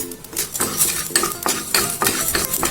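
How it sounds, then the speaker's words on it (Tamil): Fenugreek seeds dry roasting in a pan, stirred with a metal utensil that scrapes and clinks against the pan in steady repeated strokes. The sound is close and fairly loud, with no talking. "வெந்தயம் வந்து ட்ரை ரோஸ்ட் பண்ணிக்கலாம்."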